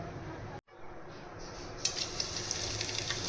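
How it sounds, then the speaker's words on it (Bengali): Ground cardamom, cinnamon, cloves and black pepper sizzle in hot oil as a tempering for mutton korma, a steady close frying hiss that brightens after a brief dropout. "তার জন্য আমি 2টো এলাচ, একটুখানি ডালচিনি, 3টে লবঙ্গ আর গোলমরিচ সব গুঁড়ো করে নিয়েছি। এরকম দিয়ে এগুলোকে ফোড়ন দেবো।"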